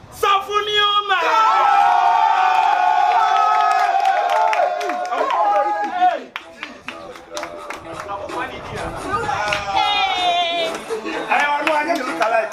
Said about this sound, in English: Let's give a hand of applause as I welcome on stage Sanfunio Man